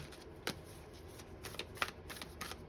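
Tarot cards being shuffled by hand, giving soft papery riffles and light taps at an uneven pace, quiet and close, with no voices.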